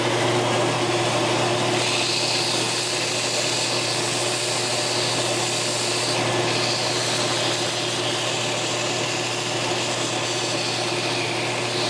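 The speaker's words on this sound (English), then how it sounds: "As you're sanding the part, you want to move the part back and forth across the surface of the belt." Belt sander grinding a machined part in a machine shop, a continuous loud whirring hum with a steady abrasive hiss that holds without pause throughout.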